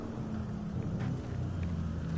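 Car engines idle and rumble in the video game Cyberpunk, a low steady motor drone with a faint humming tone and slight swells, without speech.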